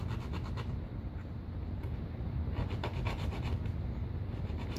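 Hand filing down worn clutch shoes, a steady rasping scrape repeated close up over a low continuous rumble, with no talking.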